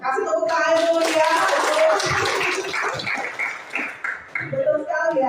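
Group clapping from a classroom or seminar audience, steady and fairly loud throughout, mixed with voices talking and calling out over it.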